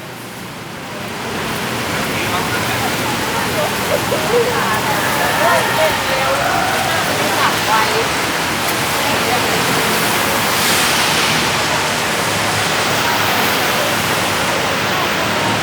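Steady rain falling on a Bangkok street at night makes a dense, even hiss that swells in slightly after the first second and stays constant throughout, with no voices standing out.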